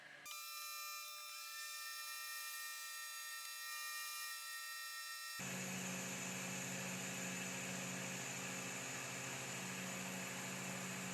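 LONGER RAY5 laser cutter working on half-inch-thick walnut at full power: a steady whine of tonal hums with a faint hiss, then a louder, broad whooshing air noise takes over and stays constant to the end.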